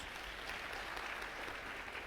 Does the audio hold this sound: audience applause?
yes